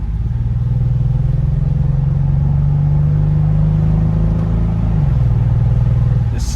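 A Lexus SC300's engine hums as the car is driven through the gears, a smooth, steady low drone that dips in pitch near the end as a gear shifts, with road rumble underneath and no talk.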